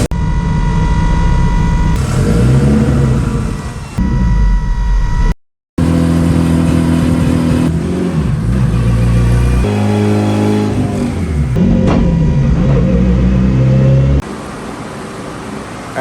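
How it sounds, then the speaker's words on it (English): A Mitsubishi Eclipse GSX with a Holset turbo runs on a dyno, its engine revving hard in loud repeated pulls that climb in pitch, with one brief drop to silence partway through. "they just started moving the car on the dyno"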